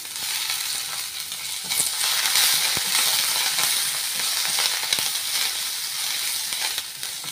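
Curry leaves, mint and coriander, with onions, fry lightly in a pan, giving a loud, steady sizzle with stirring scrapes and a few sharp clicks from the spoon.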